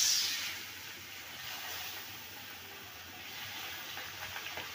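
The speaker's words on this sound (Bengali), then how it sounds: "তেল গরম হয়ে গেছে। এই যে মাছটা ভাজা নিব।" Pabda fish frying in hot oil in a wok, a steady broad hiss that holds throughout at moderate loudness, with a few sharper crackles near the end and no talk.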